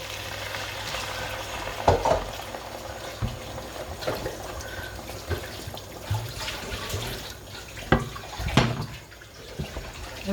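Beef bourguignon being stirred in a pot with Côtes-du-Rhône red wine, giving a steady bubbling, liquid simmer with a few louder clinks and splashes from the spoon scattered through.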